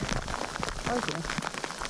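Rain falls while backpacking through Denali National Park in Alaska, a close and steady patter of drops with a brief faint tonal call or voice in the middle.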